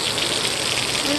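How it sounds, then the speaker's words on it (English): Waterfall at Lower Eldridge Hollow in Arkansas, a short burst of steady, hissing rush of running water heard close by. "Water's really running."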